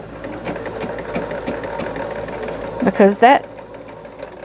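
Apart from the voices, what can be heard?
sewing machine stitching quilt sampler pieces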